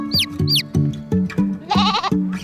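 Cartoon goats bleat in quick succession, several short nasal calls close and loud, with a brighter wavering cry near the end and light music behind.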